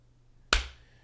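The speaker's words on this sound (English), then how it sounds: "Clap." A single sharp hand clap, close and loud, breaking a near-silent background and decaying quickly with a short ringing tail.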